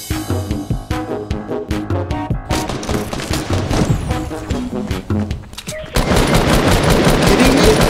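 Rapid bursts of Fortnite gunfire crackle close and loud over game music and effects, with a heavier, denser volley of shots erupting near the end.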